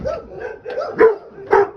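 A dog barks in short, close, fairly loud yips and woofs, several in quick irregular succession, with no talk over them.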